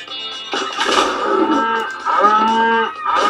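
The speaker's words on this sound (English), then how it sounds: "Lots of mooing going on everywhere" Cattle moo repeatedly in the video game Bang Howdy, several loud overlapping bellows in quick succession, close and clear.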